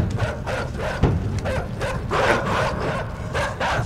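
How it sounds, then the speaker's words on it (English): Dogs in the video game INSIDE bark and yip in a loud, continuous run of overlapping barks close by, with no talk. "Oh god, there's dogs."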